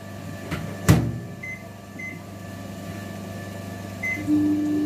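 A Samsung microwave oven hums steadily as it runs to melt butter, with a door thump near the start and a few short faint beeps, close by and with no talking.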